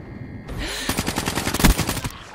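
Rapid automatic gunfire from the video game Black Ops 3, a fast burst of evenly spaced shots lasting well over a second, loud and close, starting after a brief quiet lead-in.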